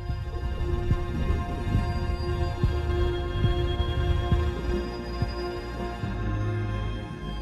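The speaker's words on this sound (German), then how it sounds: "Der Hai kann mein Herzklopfen spüren." A steady heartbeat sound effect in an underwater scene with sharks circling, low repeated thumps pulsing over a constant deep hum, with no voices.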